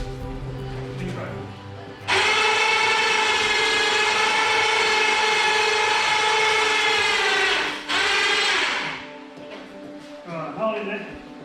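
A winch pulling an engine out of a Toyota Landcruiser during an engine swap gives a loud, steady motor whine for about six seconds. It stops abruptly, and faint voices and clunks are heard before and after.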